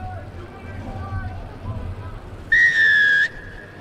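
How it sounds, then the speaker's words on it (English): A referee's whistle gives one loud, steady blast lasting under a second to start an under-18 rugby union match between Wales and Ireland, sounding clearly over a low crowd murmur and commentary. "Loud blast of the whistle."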